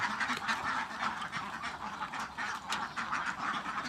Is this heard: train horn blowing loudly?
no